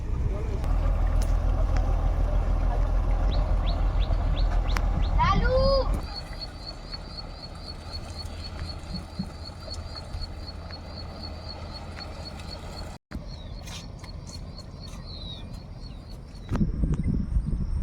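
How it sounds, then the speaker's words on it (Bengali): A motor boat on a river in the Sundarbans drones loudly nearby, then the engine noise drops and fades as it moves past, leaving a quieter hum, with birds chirping and a voice talking. "বোটটা আমাদের সামনে দিয়ে ওই চলে যাচ্ছে"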